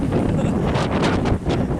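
Wind buffets the microphone in a steady, loud rumble with gusty swells throughout, outdoors on a road, no voices heard.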